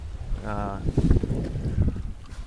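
A sailboat under sail, heard as steady wind rushing and low rumbling water noise close to the microphone, with a brief voice-like tone early on.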